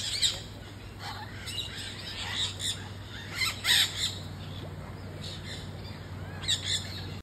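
Brazilian birds at the Iguaçu bird park, scattered high chirps and squawks from several birds over a steady low hum, some calls near and sharp, others fainter.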